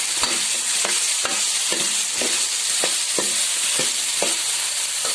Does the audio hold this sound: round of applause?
no